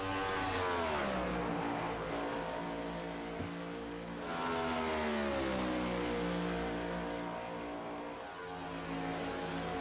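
Several ARCS race cars lap the Las Vegas oval on warm-ups, their engines droning loudly and steadily, with pitch swells as cars pass close by and fade away.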